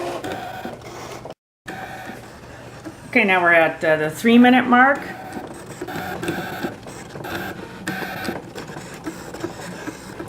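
A Brother ScanNCut DX cutting machine whirs and ticks at a low level with short motor bursts, while a person speaks and another voice briefly joins in over it.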